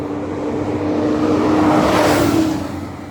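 A fire truck drives up a road, its engine rising to a steady, loud whoosh that peaks and then fades as it goes by, heard without any talking.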